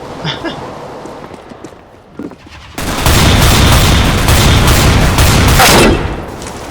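Rapid sustained automatic gunfire in Counter-Strike: Global Offensive erupts loud and close after quieter scattered shots, rattling continuously for several seconds.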